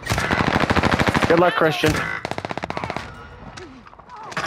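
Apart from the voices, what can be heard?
gunfire in the video game Warzone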